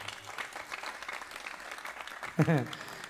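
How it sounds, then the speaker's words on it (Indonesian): An audience at an Islamic Maulid Nabi lecture applauds steadily in a room, a soft wash of clapping with a voice breaking in near the end. "Tepuk tangan untuk 6 penanya ini"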